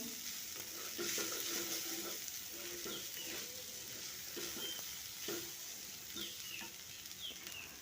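Vegetables sizzle in a pan for upma while being stirred every so often, a steady soft frying hiss broken by repeated scraping strokes of a spoon, close but fairly quiet.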